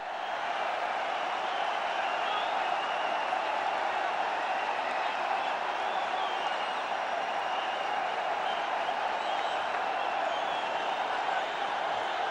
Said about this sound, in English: And let's listen to the reception.